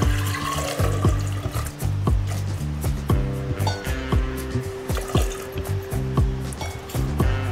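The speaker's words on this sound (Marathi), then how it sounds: "आता आपली कैरी बुडेल इतपत आपल्याला पाणी टाकायचं आहे।" Water pours into a pressure cooker over pieces of raw mango for mango panha. A close, uneven splashing fill runs under steady tonal sounds throughout.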